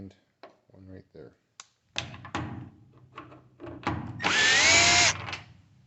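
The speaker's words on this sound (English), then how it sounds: "with the 1/4-inch nut driver, you're going to remove the screws" A power drill fitted with a 1/4-inch nut driver runs in a loud, sustained whir as it backs screws out of a GE Hotpoint washer during a lid lock replacement, after some scattered knocks, handling noises and brief speech.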